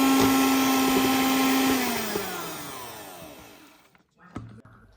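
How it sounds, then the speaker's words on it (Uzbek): An electric mixer whirs loudly and steadily while beating room-temperature butter for Napoleon cake cream, then its motor pitch slides downward as it winds down and stops, followed by a few soft clunks. "Kremi uchun tabga ko'ra 200 gramdan 350 gramgacha bo'lgan xona haroratidagi saryog'ni oppoq ko'rinishga kelgunga qadar mikserlab olamiz"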